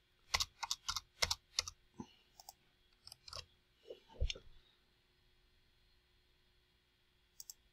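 Code being typed on a computer keyboard in a burst of quick, close clicking keystrokes, then sparser taps and a few thumps, ending in near silence with a last pair of clicks.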